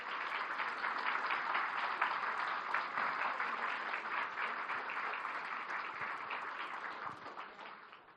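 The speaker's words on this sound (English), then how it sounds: "another round of applause" An audience at an international contest gives another round of applause, a dense, continuous roar of clapping heard from a slight distance that holds steady and then fades at the end.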